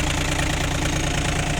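A Yanmar FF1045 four-wheel-drive three-cylinder diesel mini tractor fitted with a tiller runs at a steady, loud, close idle, knocking without a break and with no speech.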